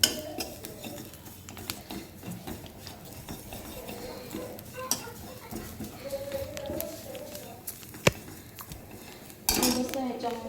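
Grated coconut is roasted in a hot kadhai, with a utensil repeatedly scraping and clinking against the metal pan amid a low sizzle, while a voice speaks intermittently.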